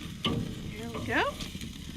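Burgers on a wood-fired grill with the gas shut off sizzle softly while being flipped over open flames, a brief frying hiss with a small scrape and a short whistling tone over it.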